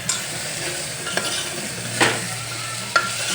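Guvar dhokla and vegetables fry together in a pan with a continuous close sizzle. A few sharp spatula knocks and scrapes stand out against it, and no one speaks.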